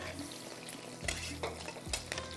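Steady sizzling of garlic frying in a pan, with a few scraping stirs and utensil clinks over the constant crackle.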